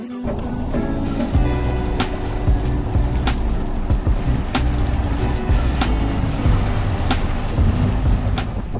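A Leopard 45 catamaran motoring under engine at sea, a constant low diesel drone with water rushing against the hulls and regular sharp knocks or slaps recurring every half second or so.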